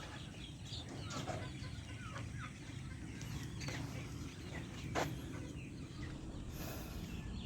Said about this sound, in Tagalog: Tingnan natin yung mga manok natin.